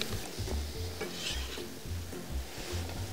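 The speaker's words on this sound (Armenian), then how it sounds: "և ավելացնում ենք սոխերը" Onions frying in fat in a pan, a steady close sizzle with stirring scrapes and light clinks of utensil against the pan, with no talking.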